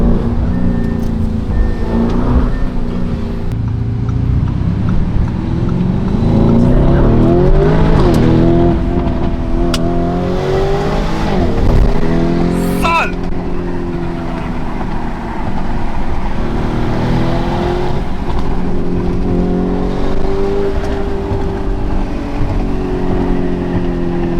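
A Lamborghini Urus S driven fast through city streets in GTA IV roars loudly and close, its engine revving up and down through repeated surges and gear changes.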